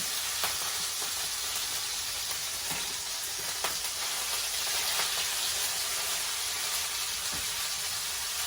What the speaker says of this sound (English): So I'm gonna get this beef browned about halfway